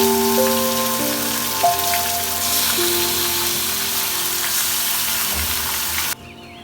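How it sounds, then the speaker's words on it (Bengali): Chicken meat frying in oil with whole spices such as chilli, garam masala and bay leaf, a loud, continuous sizzle with a faint clatter near the end. "মাংসটা দিয়ে দিলাম"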